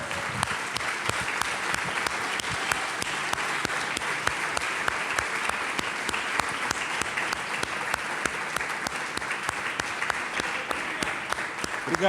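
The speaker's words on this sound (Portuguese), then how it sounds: "Vamos aplaudir ao nome de Jesus?" A church congregation applauds steadily during a worship service, many hands clapping in a dense, continuous patter that stays loud and even for the whole stretch, with no pause or voice standing out.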